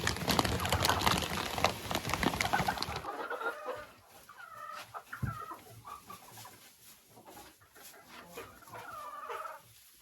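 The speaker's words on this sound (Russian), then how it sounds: "Это у меня кушают цыплята" Chickens cluck and murmur around a feeder while chicks eat, a loud close burst of commotion opening into scattered soft clucks and calls, with faint talk now and then.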